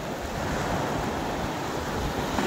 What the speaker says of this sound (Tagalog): Ayan o, malakas yung ipo-ipo.